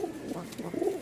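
Pigeons kept for breeding and flying coo in soft, low, repeated phrases, close and clear, with no talking.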